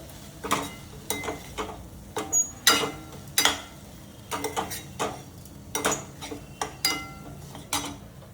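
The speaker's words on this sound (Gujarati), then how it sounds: "હવે બધી વસ્તુને આપણે મિક્સ કરી દઈએ." Onion poha ingredients being stirred together in a pan, repeated spoon scrapes and clinks against the metal coming in short uneven strokes, close and with no talking.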